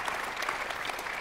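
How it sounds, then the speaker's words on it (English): A conference audience applauds as panellists leave the stage, brief steady clapping from many hands at moderate distance. "give our panellists a round of applause whilst they leave the stage"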